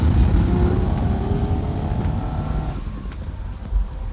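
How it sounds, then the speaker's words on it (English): A 1959 Ferrari 250 GT PininFarina V12 accelerating, a loud continuous rumbling engine drone with rising tonal pitch sweeps, wind and road noise, then easing slightly near the end. "Let's go see what she does with this V12."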